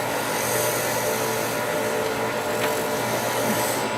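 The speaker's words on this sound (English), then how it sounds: "And this is woodworking on a lathe." Wood being turned on a lathe gives a steady, continuous broadband whir and cutting hiss that holds at an even level throughout, close by and without speech.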